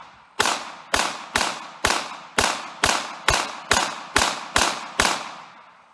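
A Ruger LCP Max .380 ACP pistol fires eleven sharp, loud shots at an even pace of about two per second, each crack ringing out briefly before the next.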